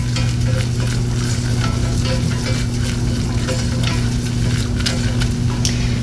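A flour roux for cheese sauce cooks in a pan with a steady close sizzle, a constant hum behind it and occasional light scrapes of stirring, without talking.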